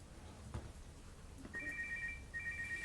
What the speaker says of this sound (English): Which phone is that? That's the second time it's gone off.